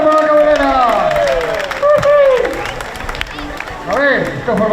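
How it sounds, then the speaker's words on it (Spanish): Crowd clapping and cheering at a motorcycle gymkhana during a local street festival, a steady spread of applause heard under an announcer's amplified voice talking over it. "¡Un aplauso para la cabrera!"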